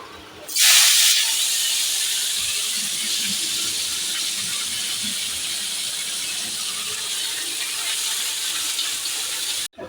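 Cumin seeds and peanuts sizzle in hot oil in a kadai, ready for red spinach: a loud, steady frying hiss starts abruptly and runs unbroken for about nine seconds, with no talking.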